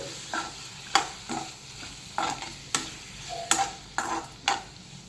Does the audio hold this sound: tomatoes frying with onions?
yes